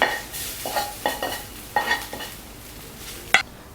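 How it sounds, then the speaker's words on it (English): Onion caramelizing in a pan for Japanese curry, stirred with a utensil: several distinct scraping strokes at irregular intervals over a soft sizzle, ending with a sharper clink, close and unaccompanied by talk. "When the onion starts to caramelize, keep stirring to avoid it from getting burned."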